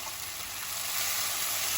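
Pureed tomato, just added to a hot pan, cooks with a steady hiss and sizzle, a continuous bright crackle of frying with no talking.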